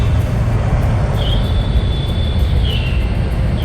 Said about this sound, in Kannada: ಅದು ಮೆಟ್ರೋ.